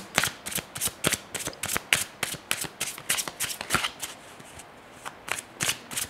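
Tarot cards shuffled by hand for a reading, with a rapid series of crisp riffling bursts close to the mic that keep coming in an uneven rhythm and then pause briefly near the end.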